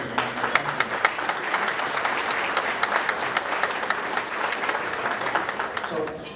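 An audience at an awards gala applauds in a sustained, even burst of clapping with scattered sharper claps, fading slightly near the end.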